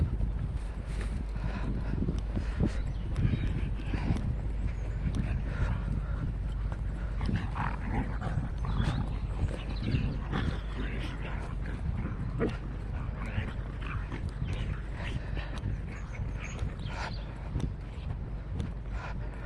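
A dog whimpers and gives bursts of barking, eager for treats, in a moderately distant, noisy outdoor setting with steady background rumble.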